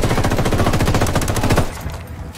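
Automatic rifle fire in the Ghost Recon Wildlands video game rattles out as a loud, close burst of rapid shots lasting about a second and a half, then trails off into echoing reverberation.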